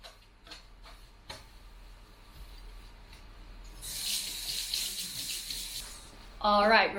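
Kitchen tap water runs into a sink as a dirty strainer is rinsed, a hissing stream starting midway after a few clicks and knocks, then a brief clatter near the end.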